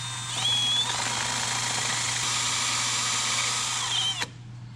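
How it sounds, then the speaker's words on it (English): A power drill whines steadily at high speed, boring out a part for a sandrail engine throttle setup, running continuously for about four seconds before cutting off abruptly. "let's drill that out first"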